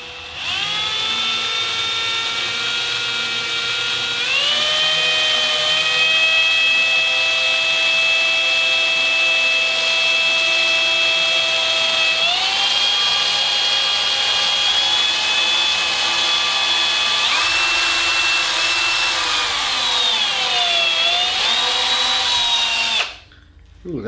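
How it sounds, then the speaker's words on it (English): A power drill bores through hard spring steel with a sustained high, whining tone that shifts in pitch several times as the bit bites and loads up, running continuously for over twenty seconds before cutting off abruptly. "this drill bit is dull after drilling through that one time. That spring steel, it's got some hardness to it."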